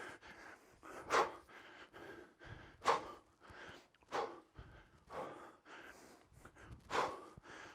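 Heavy rhythmic breathing during a kettlebell workout, sharp forceful exhales and gasps recurring every second or so over quieter panting, close and without talk.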